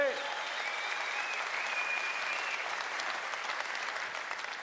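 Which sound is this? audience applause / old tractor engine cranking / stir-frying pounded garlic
audience applause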